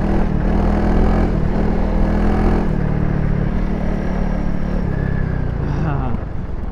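A Honda CRF300L motorcycle rides at night over wet packed snow in a Finnish forest, its engine droning steadily and close throughout, with throttle changes and a dip in level near the end.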